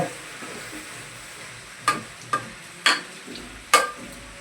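Spoon stirring chopped coriander into a simmering pea and mushroom curry, a faint low sizzle under four sharp scraping clinks against the pot spaced about half a second apart.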